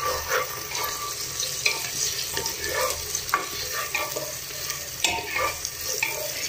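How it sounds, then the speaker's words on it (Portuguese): Crushed garlic and onion fry with chicken in a pan, giving a steady close sizzle broken by scraping stirring sounds throughout. "eu coloquei aqui o alho triturado e a cebola para fritar"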